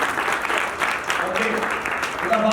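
Audience clapping along during a Christian sermon in Urdu, a dense steady wash of many hands at moderate loudness, with voices faintly mixed in.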